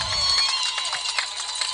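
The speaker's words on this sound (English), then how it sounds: "You can hear the crowd reaction" High school baseball crowd at a playoff quarterfinal game cheering and shouting after a swinging strikeout, a dense roar of many voices at steady moderate loudness, heard from a distance.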